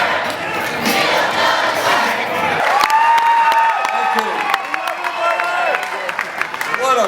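Large crowd at a 2016 presidential campaign rally cheering, whooping and clapping loudly, with shouts and whistles rising over sustained applause.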